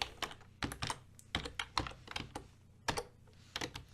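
Close, quiet typing on a computer keyboard, with irregular clusters of sharp key clicks and brief pauses and no voices.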